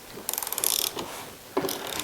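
A ratchet clicks in two short bursts of rapid ticks while loosening a suspension bolt on a Porsche Boxster during front and rear strut and spring work, close and fairly crisp with a brief pause between strokes.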